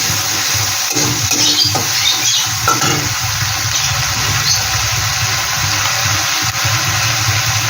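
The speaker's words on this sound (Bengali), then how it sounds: "এখানে দিয়ে দিচ্ছি আদা আর কাঁচা লঙ্কা পেস্ট। এটাও আমি একটু ভেজে নিচ্ছি।" Ginger and green chili paste frying in a pan for a Bengali chela fish curry, a steady, close sizzle with a few stirring scrapes near the start and no talk.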